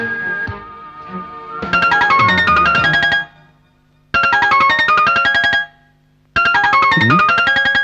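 A phone ringtone plays a bright electronic melody in three loud bursts, separated by short pauses, with no voices over it.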